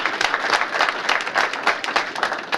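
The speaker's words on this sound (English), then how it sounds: "we also want to give a round of applause for him" A convention audience breaks into a short burst of applause, lively rapid clapping from a close crowd, loud and continuous with slight swells in intensity.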